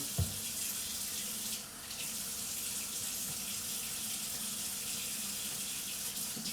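Running tap water pours steadily over a kitchen knife being washed at a sink, a constant close hiss with a brief splash at the start and no speech.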